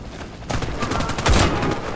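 Bursts of gunfire in the online shooter Warface, played on Xbox 360, crackle loudly for about a second and a half as several overlapping shots ring out close and sharp.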